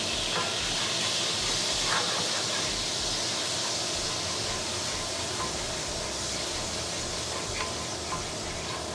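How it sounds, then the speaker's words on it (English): Beef broth hitting a hot pan to deglaze it for beef stew gives a steady, loud hiss and sizzle of steam that runs unbroken from start to finish, close up and with no voices. "that's the deglazing of my pan"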